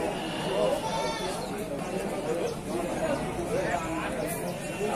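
Ewes, breeding mothers, bleating amid a busy livestock market selling pregnant female sheep, several animals calling over a dense background of crowd chatter and continuous noise.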